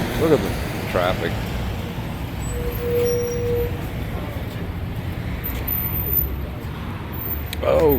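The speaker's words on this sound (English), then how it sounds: "Man, look at the freaking traffic." Road traffic passing through a downtown street during demolition work, a continuous broad rumble with a brief brake hiss and a vehicle swelling past near the end, while someone talks over it.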